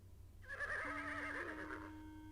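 A black horse in King's Quest VI lets out a single loud, wavering whinny that rises and then trails off, with nothing else heard.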